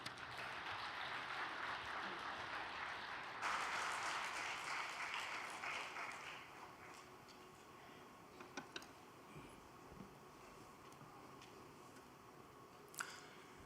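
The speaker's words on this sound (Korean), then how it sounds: "큰 박수로 맞이해 주시기 바랍니다" An audience applauds at a Korean religious all-night gathering, steady clapping that fades after a few seconds into scattered claps and faint room noise.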